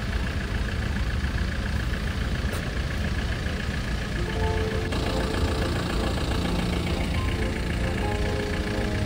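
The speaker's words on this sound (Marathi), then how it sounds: "फुल ट्रॅफिक जाम आहे." Idling engines of cars and trucks stuck in a heavy traffic jam on a snowy, slippery road in Kashmir, a steady low rumble filling the whole scene with no pauses.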